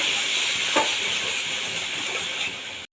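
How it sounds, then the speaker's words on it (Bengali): Spices with potatoes frying in a pan for a zucchini curry with a splash of water, giving a steady loud hiss and sizzle with a brief stirring scrape, then it cuts off at the end. "ভালোভাবে নেড়ে চেড়ে মিশিয়ে দেবো"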